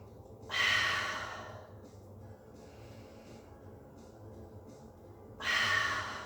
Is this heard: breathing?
yes